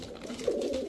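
Pigeons at a pigeon market give a soft, low cooing call that swells midway through a brief second, close by over a steady background murmur.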